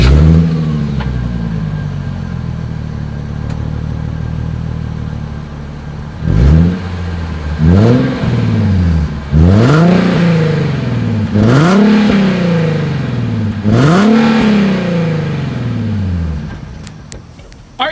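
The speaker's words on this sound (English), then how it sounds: "Here is the 2020 Nissan 370Z exhaust clip." Exhaust of a 2020 Nissan 370Z revving: a steady idle, then a series of five or six sharp throttle blips that rise and fall quickly, loud and close, with no voices.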